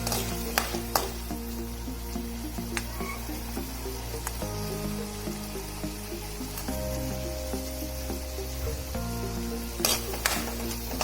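An onion, ginger, garlic and tomato paste with garam masala fries in a pan for a yogurt pointed-gourd curry, giving a soft sizzle with occasional utensil clinks over a steady droning hum.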